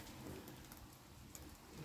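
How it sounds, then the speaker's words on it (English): Steady rain falls outdoors as a soft, even hiss with scattered drops, quiet and continuous with no voices. "here I am now in the rain. Oh, getting soaked."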